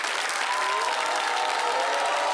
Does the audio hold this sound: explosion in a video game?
no